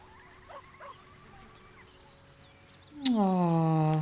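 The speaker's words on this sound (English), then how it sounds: "Puppy dog." A puppy in Baldur's Gate 3 gives a loud, drawn-out whimpering whine near the end, with quiet game ambience and faint distant sounds before it.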